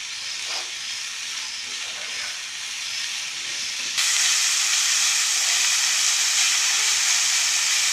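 Chicken is lightly fried in a pan for a McDonald's-style patty burger, a steady close hiss and sizzle that grows noticeably louder halfway through.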